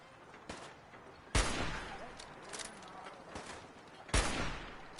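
Gunfire in Fallout 4: two loud, sharp shots stand out about three seconds apart, with fainter scattered pops and low battle noise between them.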